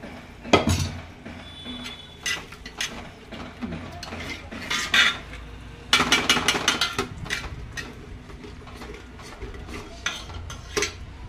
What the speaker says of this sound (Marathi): आता आपण थोडंसं सूप टाकून मसाल्याला अजून थोडंसं परतवून घेऊया